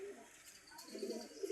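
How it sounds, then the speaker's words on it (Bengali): Pigeons coo softly in a rural yard, with a couple of low, faint, throaty coos over quiet background. "কবুতর"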